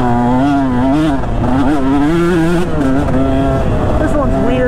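A KTM 150 two-stroke motocross bike screams close by while riding a dirt track, its loud buzzing engine rising and falling in pitch through shifts and throttle changes without a break.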